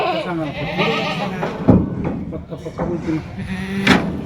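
Kathiawari goats bleat now and then among a truckload of goats at a livestock sale, heard under steady close talk with a few sharp knocks.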